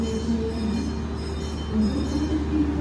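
Gajayana executive train departing on the Malang–Jakarta route, heard from inside a new stainless-steel carriage: a steady low rumble with faint wheel squeals and light rattles.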